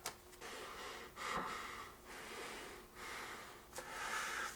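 Breathing through the filter of a reusable silicone GIR mask, a series of close, airy hissing inhales and exhales repeating in slow cycles with soft rushes of air and no talk.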